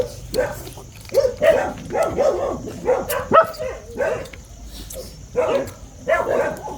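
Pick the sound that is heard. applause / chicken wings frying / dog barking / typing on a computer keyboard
dog barking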